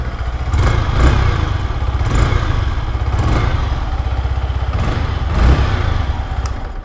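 A Yamaha R15S motorcycle engine, close and loud, revs in several repeated blips over a rough, clattering idle, with no talking.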